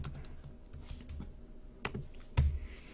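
A few sparse keystrokes on a computer keyboard, quiet and close, with one sharper tap and a louder thump near the end.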